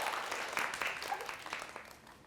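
A small crowd applauds a woman at a women's empowerment conference workshop, with a brief burst of clapping and cheering that is fairly faint and soon fades.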